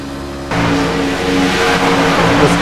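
A race car engine, heard onboard Dustin Phillips' car at Charlotte while running behind the 45 car, cuts in abruptly and holds a loud, steady drone with slight rises in pitch as it revs.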